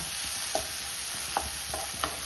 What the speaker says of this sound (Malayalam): നമുക്ക് അതിലേക്ക് 2 തക്കാളി ചെറുതായി കട്ട് ചെയ്തിട്ട് കൊടുക്കാം കേട്ടോ